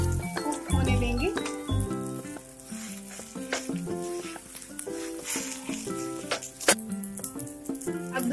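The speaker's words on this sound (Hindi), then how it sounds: "अब हम उत्तपम को पलट लेंगे और फिर से हम 1 से 2 मिनट इसे कुक होने देंगे।" A vegetable uttapam fries on a hot pan at home, giving a steady soft sizzle with occasional light clinks of utensils and background music.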